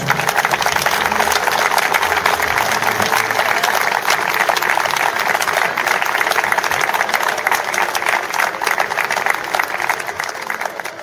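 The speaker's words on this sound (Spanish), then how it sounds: "Un aplauso para los compañeros" Sustained crowd applause for carpet makers who built a floral carpet of crushed clam shells, a loud, steady roar of many clapping hands lasting throughout and only beginning to fade at the very end.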